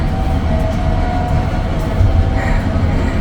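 An elevator at the Cennet Cehennem sinkholes in Mersin, Turkey, runs with a loud, continuous mechanical rumble and hum that holds steady throughout.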